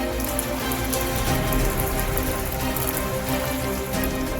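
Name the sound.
rain falling in Sri Ganganagar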